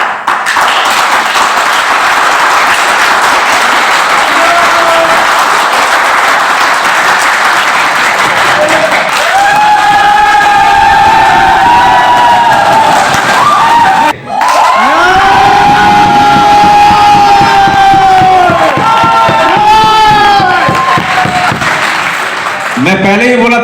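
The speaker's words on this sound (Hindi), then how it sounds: "तो मैं एक ग्रुप वाले से बोलूंगा कि एक बार आप ताली बजाएं।" Seminar audience of grouped attendees clapping and cheering loudly in a large hall, a dense continuous roar of applause with shouts over it, briefly cut near the middle and then resuming just as full, with voices calling out throughout.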